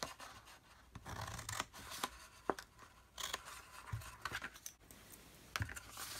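Scissors cut through a milk carton, giving a run of crisp, close snips and crinkly scratches at an irregular pace.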